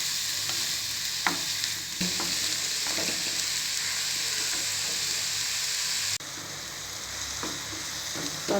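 Thinly sliced mushrooms sauté in a pan for a creamy mushroom soup, with a steady close sizzle and occasional scraping stirs, and no talking.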